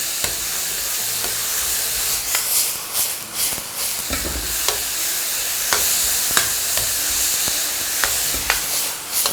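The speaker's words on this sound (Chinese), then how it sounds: "好，最大火快速给它翻炒均匀。" Vegetable bun filling stir-fried over maximum heat with soy sauce, a little sugar and seasoned oil, a loud steady sizzle broken by repeated sharp clicks of a spatula scraping and tossing in the wok, with no talking.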